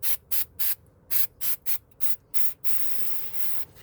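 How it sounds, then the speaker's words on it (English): Brake parts cleaner sprayed onto the brakes of an Oldsmobile Alero, first as about ten short hissing bursts in a steady rhythm, then as one longer continuous spray, close up with no talking. "Spray on some brake parts cleaner."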